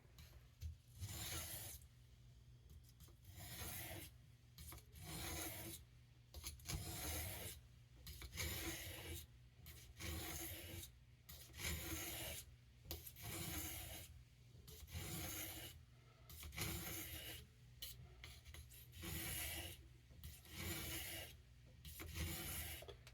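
A Boker C75 knife blade is drawn along a sharpening stone in steady back-and-forth strokes, each a soft gritty rasp repeating at a regular pace, close and quiet with no talk.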